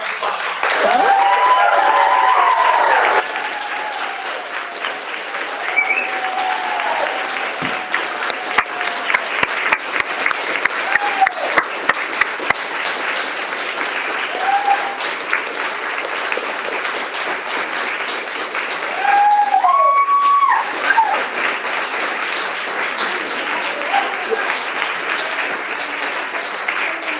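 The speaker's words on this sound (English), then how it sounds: "I'd just like everybody to just give these incredible ladies a round of applause" Audience applause for a group of women swimmers at a Roanoke swim event fills the space as sustained, dense clapping, rising in bursts with a few cheers and whoops, and a voice speaking briefly over it.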